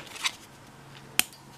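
Scissors snip twice through material while dressing a doll, each cut a short, crisp, quiet click spaced about a second apart in an otherwise still room.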